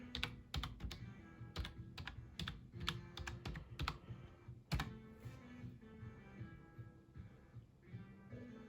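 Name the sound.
typing Wi-Fi password on USB keyboard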